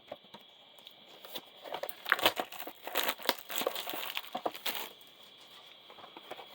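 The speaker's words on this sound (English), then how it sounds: "We're just going to do a super rip of the entire box, folks. All 7 packs." Foil wrappers of 2025 Topps Chrome WWE card packs crinkle and tear in bursts as packs are ripped open one after another, close and busy in the middle, quieter at the start and end.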